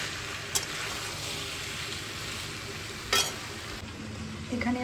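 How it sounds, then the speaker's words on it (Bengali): Potatoes fry gently in a pan for posto with a soft, continuous sizzle, broken by a few sharp clinks of utensils against the pan. "এটা আলুটা ভাজা হচ্ছে হালকা হালকা করে"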